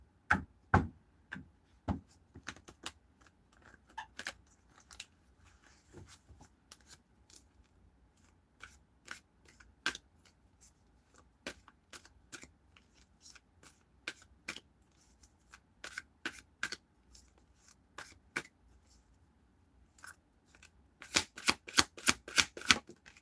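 Tarot cards are shuffled by hand in a quiet room, giving many sharp, scattered flicks and taps that rise into a quick, dense riffle near the end. The sound is close and soft, with no voice.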